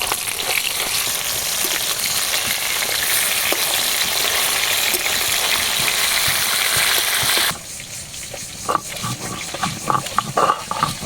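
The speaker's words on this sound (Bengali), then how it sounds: "মাছগুলো ভাজা হয়ে গেছে তুলে নেব" Fish sizzle loudly in hot oil in a home kitchen for several seconds, then the steady hiss cuts out abruptly, leaving quieter clatter and pops as the fried fish are lifted from the pan.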